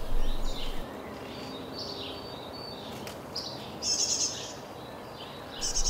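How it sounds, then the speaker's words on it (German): Great tit parents call their fledglings out of a nest box, with several short bursts of high chirping calls over a steady outdoor background hiss, fairly near and moderately loud, with no talk. "Mit Lockrufen animierten die Meisen Eltern ihre Jungen, den Nistkasten zu verlassen."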